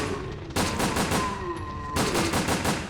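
Rapid automatic gunfire in a shooter video game, two dense bursts of fast repeated shots, loud and close, separated by a short pause with faint tonal game sounds.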